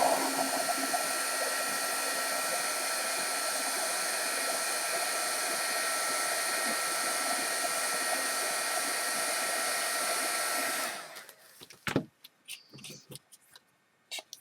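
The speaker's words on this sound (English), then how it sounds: "heat gun." A heat gun blows a steady, loud, even whoosh as it warms the plastic of a soda bottle, running alone for about eleven seconds before cutting off, followed by faint handling clicks and taps.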